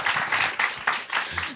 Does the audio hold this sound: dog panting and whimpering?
no